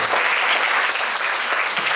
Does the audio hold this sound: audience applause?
yes